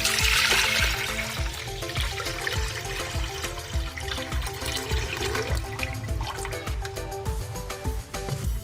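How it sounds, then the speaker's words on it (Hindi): About 2 litres of water pours steadily into a pot of beef trotters with a splashing, gurgling rush, the pitch shifting slightly as it fills, accompanied by light clinks and drips. "2 लीटर इसमें पानी शामिल करेंगे।"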